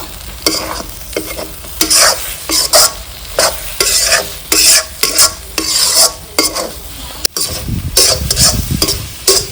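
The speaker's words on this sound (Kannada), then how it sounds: "ಈಗ ಇದನ್ನು ಚೆನ್ನಾಗಿ ಮಿಕ್ಸ್ ಮಾಡಿಕೊಂಡು ಚೆನ್ನಾಗಿ ಹುರ್ಕೋಬೇಕು" Tomato and egg mixture stir-fried in a pan for tomato egg rice: loud, close bursts of spatula scraping and stirring over a constant sizzle, coming in a rapid irregular rhythm with brief gaps.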